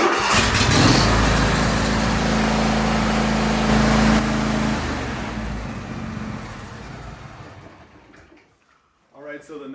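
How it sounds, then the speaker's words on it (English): A John Deere riding mower engine runs loud and steady, then winds down and cuts off, and a voice starts talking right after the engine goes quiet. "We're gonna just quickly start the engine, let it run for about 30 seconds, shut it off"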